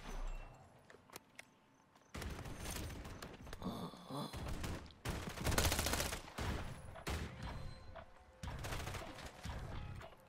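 Gunfire in Call of Duty MW3 from a Striker 9 submachine gun rattles out in bursts, loud and close, with quieter gaps and game noise between them.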